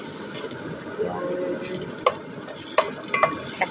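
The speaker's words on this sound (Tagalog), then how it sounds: "Igisa muna natin yung ating red onion." Red onion sizzles steadily in a hot pan, with occasional scrapes and clinks of a utensil stirring it.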